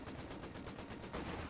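Machine gun fire rattles in rapid, regular bursts during a 4v4 Company of Heroes 2 battle on the La Gleize map, dense and continuous with other battle noise layered in.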